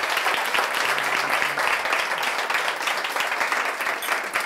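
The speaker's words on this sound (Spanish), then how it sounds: "les pido un fuerte aplauso al canciller de la República" A crowd gives a strong round of applause for the chancellor of the Republic at a public event in Quito, a dense, loud, sustained roar of clapping with no pause.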